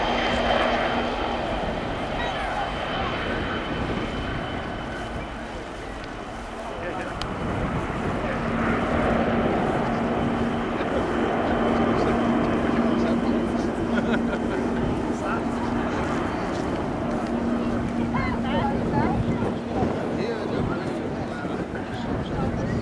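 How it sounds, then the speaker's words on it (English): A Japanese Maritime Self-Defense Force Kawasaki P-1 maritime patrol jet rolls for takeoff at an air show, its engines roaring loud and continuous with a steady whine, while a commentator talks over it. "Rolling now from the Japanese Maritime Self-Defense Force, the Kawasaki P-1"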